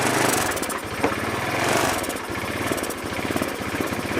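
GY6 150cc scooter engine with a cracked carburetor boot sucking in air runs loud and close with a rapid, slightly uneven putter that wavers in pitch.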